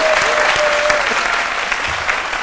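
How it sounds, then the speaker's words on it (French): A live studio audience on an Ivorian midday TV show applauds loudly and steadily for a guest, a dense, continuous wash of clapping with little talk. "Je voudrais qu'on applaudisse encore très fort Philo"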